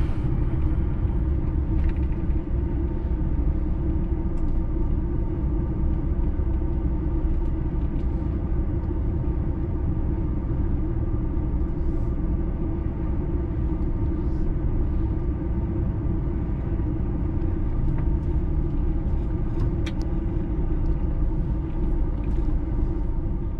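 A vehicle's engine rumbles steadily and close as it pulls slowly into a tight parking space, the low drone continuous with no clear changes and no voices.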